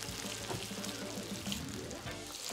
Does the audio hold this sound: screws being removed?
no